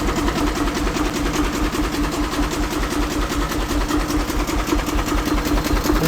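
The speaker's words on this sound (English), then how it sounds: "I've got the battery disconnected, it's running on the generator." A 1920 International Harvester engine running on kerosene, a loud, steady, rapid mechanical chugging with a rhythmic knocking pulse, close up and continuous with no talk.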